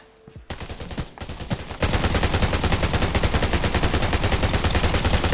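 Gunfire in the video game Undawn starts with a few scattered shots, then becomes sustained, rapid automatic fire that stays loud and close throughout.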